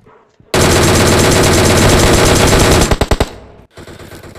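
Sustained loud automatic gunfire in a squad battle royale shooter, a dense unbroken burst lasting a couple of seconds, then a few separate sharp shots and a short quieter pause before faint background game sound.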